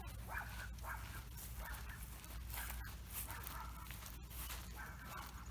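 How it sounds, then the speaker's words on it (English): Dogs bark in short, scattered bursts behind a garden gate at a neighbor, faint and distant under a low steady background hum. "My dogs are barking in the background."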